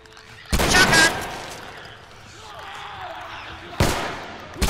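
Two loud, close shotgun blasts ring out in The Last of Us Remastered, the first booming and trailing off for a few seconds, the second arriving near the end, with a voice briefly heard.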